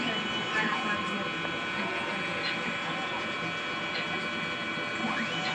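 A printer runs a print head cleaning cycle, giving off faint whirring and clicking mechanical sounds from the carriage and pump, with a voice talking quietly in the background.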